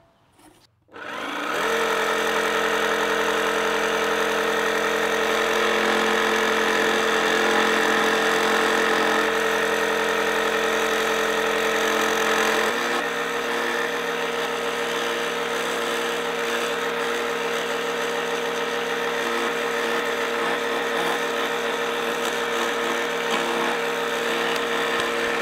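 A DIY jigsaw set up as a precision cutting tool runs in a steady, loud motorized whine after a brief start-up, holding an even drone for over twenty seconds with a slight shift in pitch midway, no talk.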